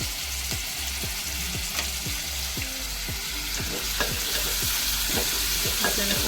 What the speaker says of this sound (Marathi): कांदा चांगला असा परतवून घ्यायचा आहे